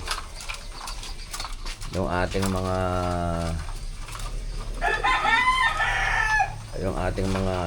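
Gamefowl breeder roosters crow loudly and close, several drawn-out calls with clucking in between, while someone talks over them.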